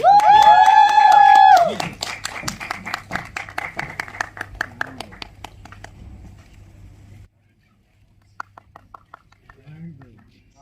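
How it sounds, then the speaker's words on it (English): A loud whistle-like hoot opens over audience clapping at a film press conference in Delhi; the clapping continues in a quick, thinning rhythm, dies to silence, then a few scattered claps and a voice return. "The claps and hooting should keep coming."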